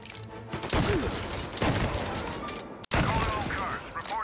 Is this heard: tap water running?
no